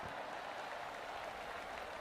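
Crowd applause in the PGA Tour 2K23 golf video game after a gap wedge shot on a par 3 at Makai Mauka Resort: a steady, even wash of clapping that holds for about two seconds at moderate level, with no talking over it.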